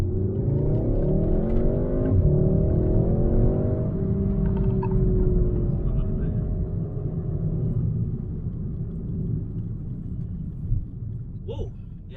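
A Volkswagen Golf 7 R engine revs up hard with rising, layered tones, then settles into a steady rumble as the car cruises on; no speech.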